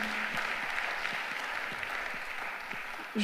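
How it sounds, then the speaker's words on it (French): Steady applause from a forum audience, a dense wash of clapping that continues evenly throughout, moderately loud. "Vous pouvez l'applaudir, on peut l'applaudir."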